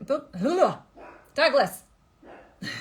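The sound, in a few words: dog barking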